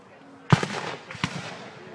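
A sharp, loud boom from a cannon at a Civil War reenactment in Huntington Beach bursts out, followed by a second blast and rumbling echoes, with voices faintly present around it.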